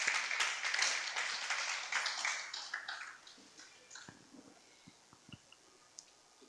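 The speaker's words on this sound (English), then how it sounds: "Please clap for him as he gets here." Audience applause at a women's work readiness boot camp event, a moderate burst of clapping that thins out into a few scattered, fading claps.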